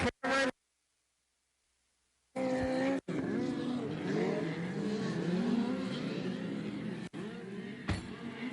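Central States midget race cars running a heat race, a loud sustained engine roar with shifting pitch as the cars pass, following short bursts and a stretch of silence at the start.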